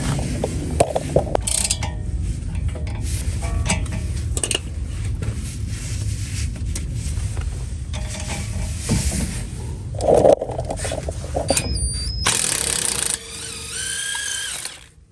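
A ratchet wrench fits the rear control arm back on a 2017 Ford Kuga Mk2 during a rear brake job. Close, repeated ratcheting clicks in bursts, with metallic clinks and a short high squeak among them.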